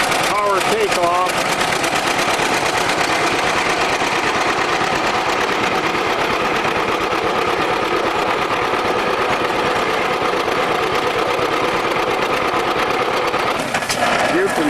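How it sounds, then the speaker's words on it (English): John Deere tractor driving a hay baler through its power takeoff, a steady loud mechanical clatter and engine drone running continuously, with faint voices briefly at the start and end. "This is the power plant, of course, for this baler. It's a John Deere tractor, power takeoff."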